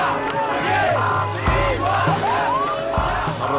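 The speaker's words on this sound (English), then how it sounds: "In Cairo, Egypt, the crowds are shouting and screaming" Crowds in Cairo, Egypt shouting and screaming, a dense roar of many voices with rising and falling yells and whoops, loud and sustained with occasional sharper bursts.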